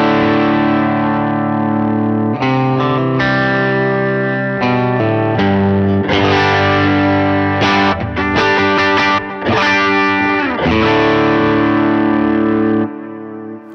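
Electric guitar chords and single notes ring out with a compressed, even sound from a compressor, softened by reverb and trailing delay echoes, played steadily and alone.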